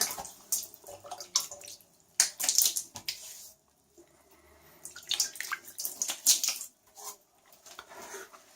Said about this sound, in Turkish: Yüzüme hemen tıraş suyumu vuruyorum.